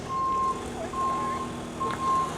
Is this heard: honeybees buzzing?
no